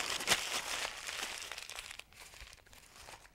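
Sheets of paper crumpled by hand to start a forge fire give a close, continuous crinkling and crackling that softens and thins out toward the end.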